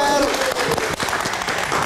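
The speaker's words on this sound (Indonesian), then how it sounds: "Kita berikan tepuk tangan untuk Bang Dhani Keller." Audience applause for a stand-up comedian at a comedy talk show, a short burst of steady clapping at moderate loudness with voices mixed in.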